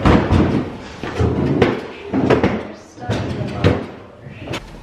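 Old wooden furniture drawers slide open and thump shut several times in a cluttered garage during a clean-out, irregular knocks and scrapes mixed with people talking.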